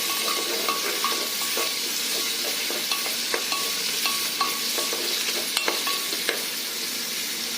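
Two green chilies fry in spiced oil for a bajra khichdi, giving a dense, even sizzle up close, with sharp spoon clinks and scrapes against the pot at irregular intervals.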